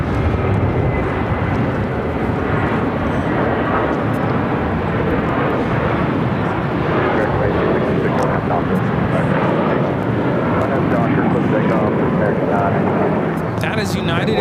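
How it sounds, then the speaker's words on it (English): United Airlines Boeing 757-200 jet taking off from LAX bound for Newark, a loud, steady broadband engine roar filling the whole stretch with a few people talking faintly over it. "That is United Airlines 1488 taking off to the skies to Newark on the 757-200."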